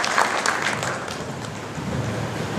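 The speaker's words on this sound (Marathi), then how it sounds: "आता टाळ्या वाजवायला हरकत नाही" Applause from an audience at a national convention hall, a dense, steady wash of many hands clapping that continues evenly for a few seconds at moderate volume, with no speech.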